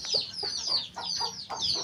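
A hen that has been sitting since morning clucks in a steady run of short, repeated calls, close and moderately loud, with no talk.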